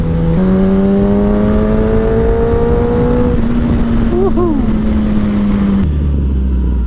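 A Kawasaki Ninja ZX10-R motorcycle ridden on a canyon road: a steady, droning engine note holding nearly constant pitch with a shift partway through, loud with wind rush, ending in a drop to idle.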